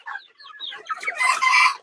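Egyptian Fayoumi chickens cluck in short, nasal bursts, a few birds close by, building into a louder squawking run at the end.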